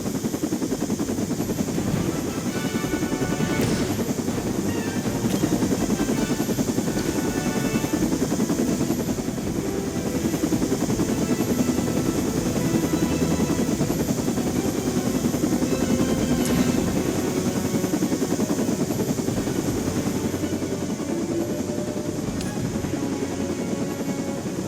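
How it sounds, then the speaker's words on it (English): A helicopter's rotor in the video game Marvel's Midnight Suns thumps steadily and loudly throughout, a continuous close whirring drone with a few faint sharp clicks mixed in. "That helicopter's about to take off"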